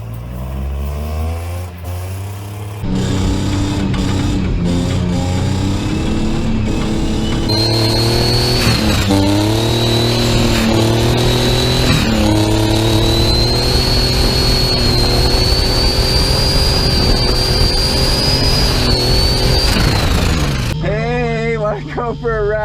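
A turbocharged Chevrolet Silverado pickup engine, worn and beaten down, revs hard and holds near redline with a loud, rising turbo whine, then drops off; a voice is heard near the start.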